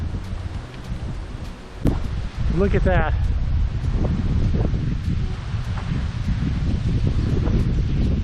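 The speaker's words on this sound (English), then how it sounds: "I don't know if y'all can hear this, as windy as it is." Steady, heavy wind rumble buffets the microphone throughout on a trail in Shenandoah National Park, with a person briefly speaking partway through.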